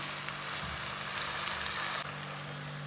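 Finely chopped onion frying in a pan toward light golden, a steady close sizzle with faint crackle that continues without talk.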